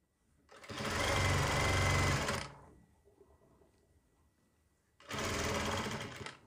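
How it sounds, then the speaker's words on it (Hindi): A sewing machine stitches a V placket neckline in two loud, close bursts of rapid mechanical whirring, a long run followed by a quiet pause and then a shorter run. "ये देखिए ऐसे रख के आपको यहाँ पर सिलाई लगानी होगी"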